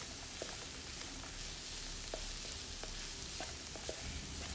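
Three finely chopped onions sautéing in oil in a pan for a spicy chicken masala filling: a steady, fairly quiet sizzle with occasional light stirring taps, no voices.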